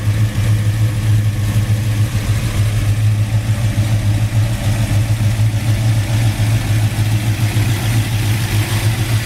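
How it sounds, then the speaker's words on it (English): A 1972 Ford Mustang Mach 1 with a 351 Cleveland four-barrel V8 idles close by, giving a loud, steady, low burble that holds even throughout with no revving. "Under the hood lies a 351 Cleveland 4-barrel."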